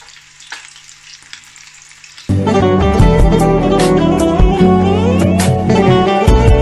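Calamari drops into hot oil and erupts into a loud, steady sizzle, a dense crackling bubble that starts abruptly after a quiet moment and continues without talk.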